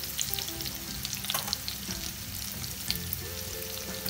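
Ginger, chillies and curry leaves frying in hot oil, a dense crackling sizzle with scattered pops and the tap of a spoon stirring, close and steady with no speech.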